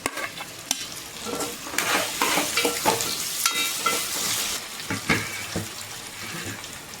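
Cut okra pieces tumble into a pan with other chopped vegetables and get stirred, a close sizzle broken by repeated scraping and clattering strokes of a spoon, loud and busy at first and then settling.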